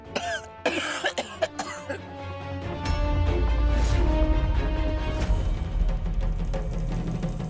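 Several harsh coughs in quick succession near the start, followed by a sustained loud rumbling background with some vocal sounds.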